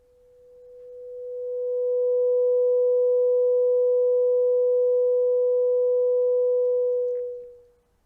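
A heated, red-glowing wire inside a tube sings out a pure, steady tone that swells up over two seconds, holds evenly and loud, then fades quickly at the end, with no other sound around it.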